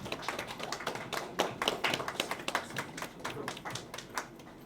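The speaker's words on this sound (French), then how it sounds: "Je vous présente donc au cadre de ce ministère, sous vos applaudissements, s'il vous plaît." Applause greets a newly appointed tourism minister at an official ceremony: a scattered, moderate patter of hand claps from a small audience, steady for several seconds before thinning out.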